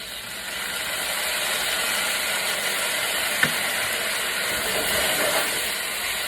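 Kung Pao chicken sauce hits a hot pan with a steady close sizzle and hiss, one sharp clink midway, the frying holding at an even level throughout.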